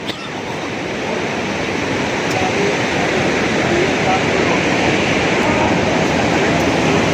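The Mandakini river rushes beside the Kedarnath trekking path near Gaurikund, a steady, loud broadband roar of flowing water that holds constant throughout without breaks.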